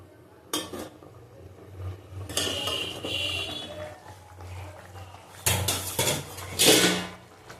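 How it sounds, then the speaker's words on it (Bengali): A pot lid is lifted off a pan of hilsa fish curry with radish, eggplant and raw tamarind, bringing a few metallic clinks and clatters of lid and cookware against a low kitchen hum, with two louder bursts near the end. "ঢাকনাটা আবার খুলে দেখে নেব।"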